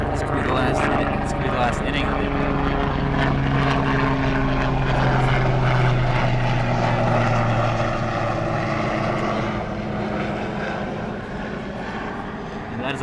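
A helicopter passes overhead during a varsity high school baseball game, its rotor and engine drone holding loud and steady before fading, heard under a play-by-play announcer talking.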